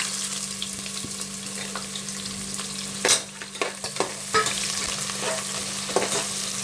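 Onions and shahi jeera fry in hot oil for a wedding-style vegetable biryani, a steady close sizzle with a low hum beneath and a few sharp stirring scrapes and spatters around the middle.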